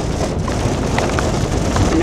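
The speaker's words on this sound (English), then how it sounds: "Now it's raining." Steady rain falls outdoors, a dense, even hiss of drops pattering on surfaces, continuous and fairly close with no talk over it.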